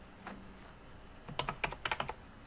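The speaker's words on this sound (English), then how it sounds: "As you start typing" Fingers tap a computer keyboard in a quiet room, a few scattered keystrokes and then a quick burst of clicks, close and fairly soft, with no talking.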